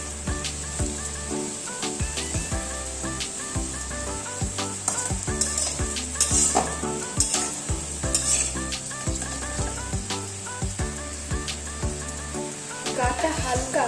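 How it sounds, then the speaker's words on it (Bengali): Ingredients for a vegetarian sago khichuri fry in hot oil in a pan, with a steady sizzle throughout and repeated clinks and scrapes of a spoon stirring, close and fairly loud. "আমাদের ভাজা প্রায় হয়ে এসেছে।"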